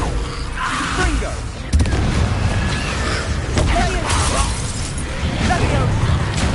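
Confringo fire spell blasts in the video game Hogwarts Legacy, a string of booming, crackling explosions with one sharp burst near the start, heard over continuous game noise and voices.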